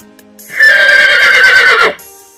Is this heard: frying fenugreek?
no